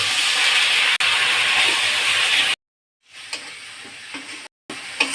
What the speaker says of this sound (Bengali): এখন আমি অল্প জল দিয়ে মশলাগুলো একটু কষিয়ে নেব